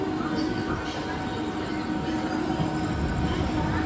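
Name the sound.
train running, Kanchonjungha Express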